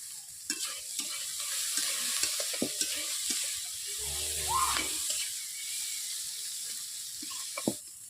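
Chopped onion and whole cumin frying in a pan, with a soft continuous sizzle under scattered stirring taps and scrapes, heard close.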